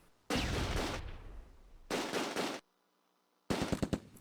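Gunfire crackles in a World War II tactical battle in Close Combat: A Bridge Too Far, with a BAR squad firing: loud sustained bursts broken by short pauses, then a rapid string of separate shots at the end.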